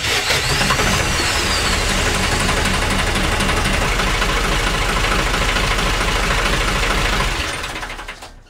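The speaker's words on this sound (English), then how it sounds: "The engine in my narrowboat is now working again." A narrowboat's diesel engine fires up and settles into a loud, steady running rumble with a rhythmic knock close by, continuing for several seconds before the sound quickly fades away at the end.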